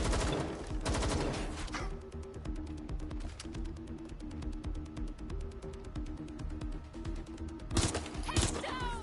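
Rapid bursts of gunfire in the video game Watch Dogs Legion, a steady run of sharp repeated shots with heavy impacts near the start and end over game music.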